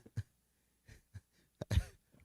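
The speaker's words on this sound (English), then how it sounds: "I'm coughing." A man coughs several times in short, sharp bursts spread unevenly across the moment, fairly close and quiet, with a heavier, longer cough near the end and no talking.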